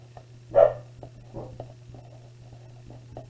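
A dog gives a single loud bark near the start, followed by a few fainter yips or whimpers over a steady low electrical hum, with no talking.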